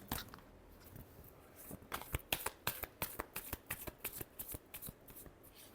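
Tarot cards riffled in a last shuffle during a Scorpio reading, a rapid run of crisp, close slapping flutters that builds into a steady rhythmic burst of card snaps, with no voices.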